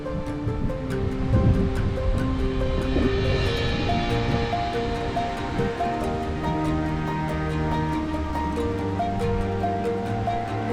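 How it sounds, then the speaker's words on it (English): Wind gusts across a high mountainside at around 12,000 feet, making a steady, loud, broadband rushing roar that continues without a break. "Nice and breezy up here."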